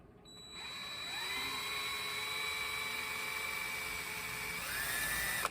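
A high, steady whining tool motor runs for several seconds, driving a small tap to work out the limiter cap on the high jet of a STIHL 291C, rising in pitch as it spins up, close by, with a brief pitch sweep near the end.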